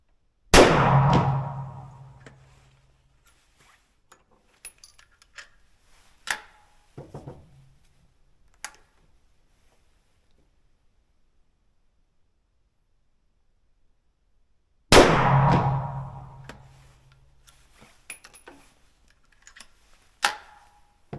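Rifle shots from a Rossi LWC chambered in .300 Blackout, fired at a target: two sharp, loud reports about fifteen seconds apart, each followed by a short ringing decay, with scattered small clicks and handling noises between them.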